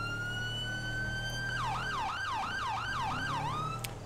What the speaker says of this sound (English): I can hear their siren, too.